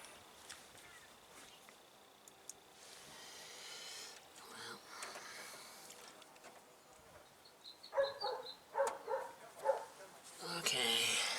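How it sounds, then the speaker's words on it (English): A neighbor's dog barks from a distance, faint at first, then a burst of louder yips and barks toward the end, mixed with a person talking. "My dogs never bark like that."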